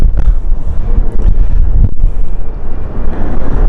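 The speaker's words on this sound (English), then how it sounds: "where's this wind come from" Strong, gusty wind buffeting the microphone at London City Airport, a loud continuous low roar with rising and falling surges throughout.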